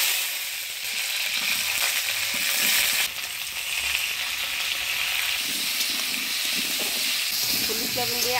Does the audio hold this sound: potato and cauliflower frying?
yes